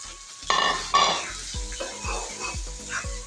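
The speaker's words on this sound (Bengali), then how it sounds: "এখন আমি পটলের মিশ্রণটা এখানে অ্যাড করে দেবো।" Pointed gourd paste goes into cooked spice masala for potol bhorta, with a couple of sharp sizzling bursts followed by rhythmic stirring scrapes of a spoon against the pan.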